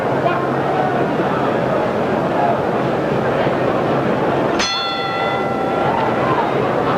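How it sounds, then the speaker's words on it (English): A single boxing ring bell clangs sharply to open a round at a 1965 heavyweight title fight, its ringing tone fading over a couple of seconds above a steady crowd murmur. "We're 15 seconds from the bell."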